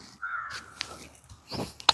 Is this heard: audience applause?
no